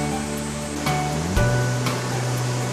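Mountain stream water flowing through Deokgu Valley in Uljin, a continuous, steady rush of broadband noise with a low tonal hum running beneath it throughout.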